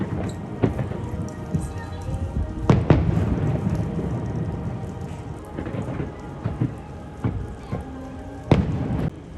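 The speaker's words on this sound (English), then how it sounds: "Fireworks are going off." Distant fireworks near Epcot, heard from a room in the Dolphin hotel during a stormy night, boom and crackle in scattered bursts over a steady rainy hiss, with a few sharper bangs standing out.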